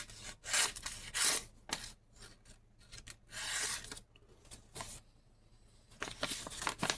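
A Kinfolk fixed blade knife cuts through material in short rasping, scraping strokes, close and fairly quiet, with brief pauses between bursts.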